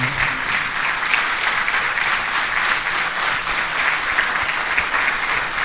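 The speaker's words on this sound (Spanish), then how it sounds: "denle un fuerte aplauso al Señor" A church congregation applauding at an Easter resurrection service, sustained dense clapping from many people throughout, loud and steady without pause.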